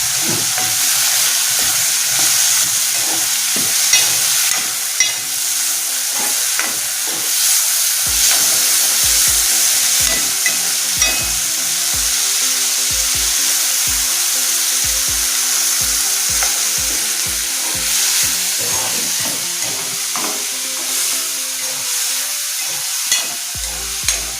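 Strips of mango frying in a pan with green chillies and curry leaves while being stirred, a steady loud sizzle with repeated scraping and clinking of the spoon against the pan.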